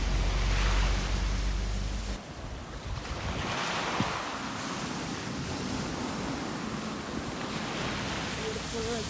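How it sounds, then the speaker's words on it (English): Sea waves wash onto a St. Thomas beach in a steady, continuous surf, with wind buffeting the microphone and brief faint speech. "the sea is sounding so soothing"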